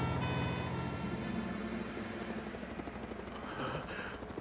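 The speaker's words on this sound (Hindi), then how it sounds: "ये तो आवाज है टॉम के हेलीकॉप्टर की" Tom's helicopter from the Fireman Sam cartoon approaches with a rhythmic rotor chop over a droning engine whine, fairly loud and steady, with no one talking.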